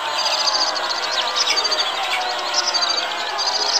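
Small cartoon birds chirp and tweet in a dense, continuous flurry of high, rapid calls, steady and fairly loud with no voices.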